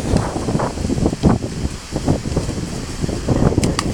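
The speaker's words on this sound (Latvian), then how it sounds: "Baigais vējiņš" Strong gusts of wind buffet a microphone outdoors at a casual football match, rumbling and rushing in uneven bursts with a faint whistle near the end.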